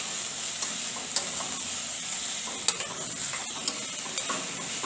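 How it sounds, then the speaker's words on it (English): Peppers and celery sizzle in a pan for minestrone soup, a steady close frying hiss broken by occasional clicks and taps of stirring. "we have sauteed our vegetables"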